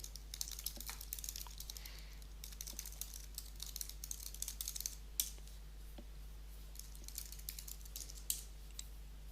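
A computer keyboard is typed on to enter a package install command, giving quick, light key clicks in short irregular bursts over a low steady hum, with no speech.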